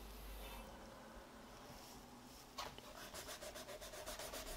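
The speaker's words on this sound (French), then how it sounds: "On peut venir, eh bien, gommer tout ce qui est trait de construction." Pencil eraser rubbing out construction lines on a paper drawing of a T-shirt, soft faint scrubbing at first, then a quicker rhythmic back-and-forth rubbing strokes close up toward the end.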